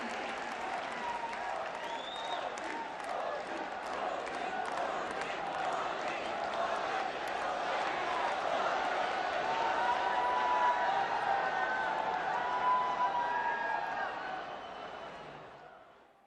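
A large audience in Kutch gives PM Narendra Modi a sustained round of applause, dense and even for about fourteen seconds before tapering off quickly at the end.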